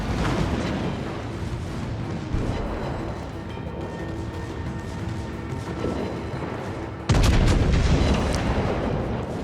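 Naval gunfire and shell impacts from a Fuso battleship in World of Warships, a dense, continuous rumble of heavy booms with a sudden louder blast near the end, no talking.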